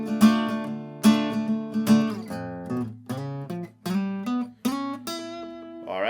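Acoustic guitar in standard tuning playing the intro, a sequence of ringing plucked notes and chords with a few strong accented attacks, close and clear with no voices.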